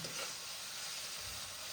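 Dal frying in a pan makes a steady, quiet sizzling hiss that stays even throughout, with no voices.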